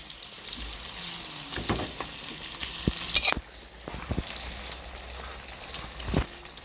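Fish roe fries in a pan, cooked separately for a coconut-ground sardine curry, giving a steady sizzle with a few sharp clinks and scrapes of stirring scattered through.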